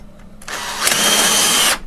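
A power drill drives a screw into the side of a window-blind mounting bracket, one short burst of whirring motor noise lasting over a second, close and loud, without any speech.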